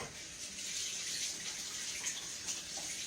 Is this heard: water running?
yes